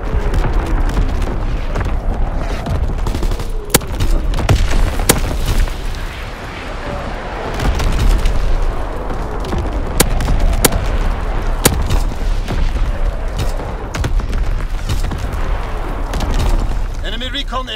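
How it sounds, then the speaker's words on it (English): A battery bomb strike in a war video game sets off repeated loud, booming explosions and scattered sharp blasts over a continuous rumbling battlefield din, with voices speaking throughout. "Firing battery bomb."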